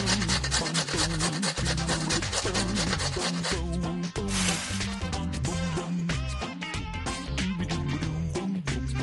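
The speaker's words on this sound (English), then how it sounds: "We need to grate this." Food grated in a Masha and the Bear pizza-making video game, a rapid repetitive rasping scrape with a bright cartoon-style game soundtrack running underneath.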